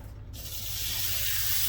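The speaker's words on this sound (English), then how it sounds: "I'm just going to start getting this meat here and throwing it in that pan." Beef pieces searing in a hot skillet for Mongolian beef, a steady loud sizzle that swells in as the meat hits the pan and holds, with no talking.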